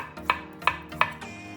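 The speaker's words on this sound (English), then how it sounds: "Finely chop a little carrot." A knife finely chopping carrot on a cutting board, three sharp, evenly spaced close thuds over a soft background hum, no talking.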